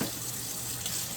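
Hot water running steadily from a tap into a sink, a continuous close hiss and splash lasting throughout with no talk.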